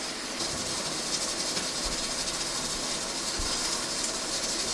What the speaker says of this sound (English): get the immersion blender and blend it up.